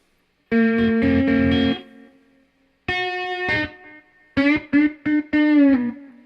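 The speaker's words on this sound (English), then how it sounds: "on the Ghost Rain we have echo, feedback, and time." Electric guitar played through a Caline Ghost Rain reverb delay pedal: three phrases of ringing notes and chords, each trailing off in slapback echo and a soft reverb tail, close and loud with no talking.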